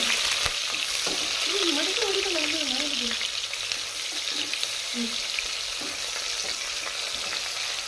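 Onions fry in hot oil with bay leaf, cinnamon, cloves and cardamom, giving a steady close sizzle with occasional stirring and faint voices at the start.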